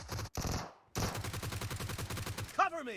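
Rifle gunfire from a heavily recoiling weapon in PUBG Mobile, a rapid sustained burst of shots after a brief opening volley, loud and close, with a short synthetic game sound at the end.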